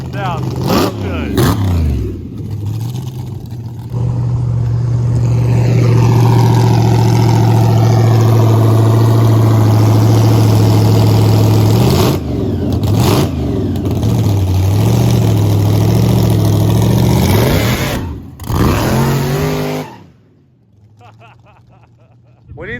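A supercharged LS engine in a Blazer idles with a deep, steady rumble, then revs up sharply several times with a rising whine before cutting off near the end.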